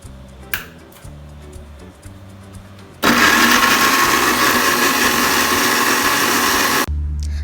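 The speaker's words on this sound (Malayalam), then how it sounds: "ബീഫ് കറിക്കുള്ള ഇഞ്ചി വെളുത്തുള്ളി പേസ്റ്റൊക്കെ അരച്ചുകൊണ്ടിരിക്കുകയായിരുന്നു" An electric mixer grinder whirs loudly and steadily for about four seconds as it grinds ginger and garlic into paste for beef curry, starting abruptly after a quieter kitchen stretch with a small clink, then cutting off sharply.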